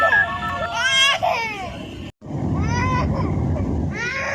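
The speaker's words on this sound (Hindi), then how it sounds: "गर्मी इतनी ज़्यादा है कि आप बच्चों के रोने की आवाज़ भी सुन सकते हो।" A young child cries and wails loudly in repeated bursts in intense heat, close up, with a brief pause before the crying resumes.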